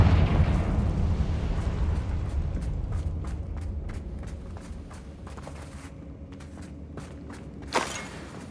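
Confringo spell explosion in the Hogwarts Legacy video game: a loud blast that rumbles and decays over several seconds, followed by faint scattered pops and a short sharp burst near the end, with no speech.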